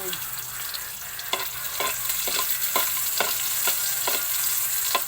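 Garlic sizzles in hot oil in a pan, a continuous close fry broken by about eight sharp scrapes and stirs at an uneven pace, with nobody speaking.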